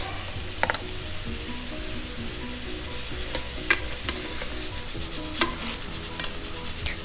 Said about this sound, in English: So I'm just gonna fry them very well